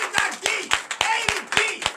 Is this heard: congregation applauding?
yes